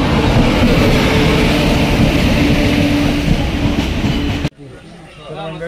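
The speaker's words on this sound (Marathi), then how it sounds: "मंडळी आत्ताच आमची ट्रेन आली आणि ट्रेनमध्ये आम्ही चाललो आहे" A crowded local train rumbles along steadily with rhythmic rail clatter and loud broadband roar for about four and a half seconds, then cuts abruptly to a quieter interior hum with faint voices.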